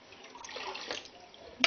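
Jam-e-Shirin sharbat pours steadily into a jug with a soft splashing gurgle, fairly quiet, ending in a brief clink.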